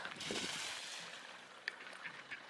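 Faint duck quacks from a gathering of ducks and swans come through a soft outdoor hiss, with a few scattered calls near the end.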